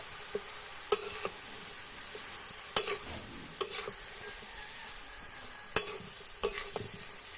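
Tender spinach and parboiled potato stirred in a pan with a little water for a Bengali ghonto, a soft continuous sizzle broken by crisp, irregular spatula scrapes and knocks against the pan, close and without talk.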